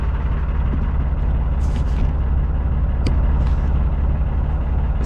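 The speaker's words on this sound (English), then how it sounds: "Typical of an old diesel engine." An old diesel boat engine idles steadily on a cold morning, a continuous low throbbing rumble close by with no voices over it.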